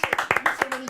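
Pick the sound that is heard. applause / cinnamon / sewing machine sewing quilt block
applause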